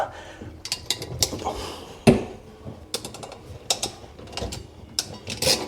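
A PEX crimp tool works a stainless steel clamp onto a chrome supply valve, producing close, irregular metallic clicks, ratcheting and clanks, with one sharp louder snap near the middle.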